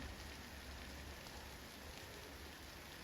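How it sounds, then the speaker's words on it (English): Heavy rain falling during a school rugby and netball tri-series at Safata, a dense, steady hiss of rain on surfaces filling the whole stretch, faint overall. "there's so much rain"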